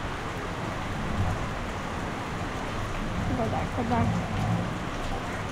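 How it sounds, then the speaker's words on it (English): Steady, dense hiss of heavy, warm rain pouring down in Sri Lanka, with a voice talking briefly under it. "Very warm rain, like hot water."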